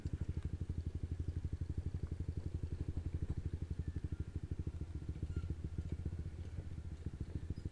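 A big motorcycle rumbles along a badly damaged road, its engine putting out a steady, dense low thumping pulse throughout with a faint rattle over the top.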